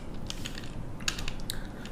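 Quiet, irregular keystrokes on a computer keyboard while a Python help command is typed, a handful of light clicks scattered over a soft background hum.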